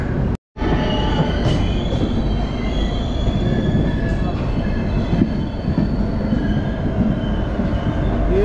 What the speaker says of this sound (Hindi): तो निकल चुकी है हमारी ट्रेन प्लेटफॉर्म नंबर 2 से